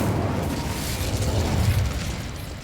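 Incendio fire spell in the video game Hogwarts Legacy erupts as a sustained whooshing, crackling burst of flame, fairly loud and swelling for about two seconds before easing off, with no talking.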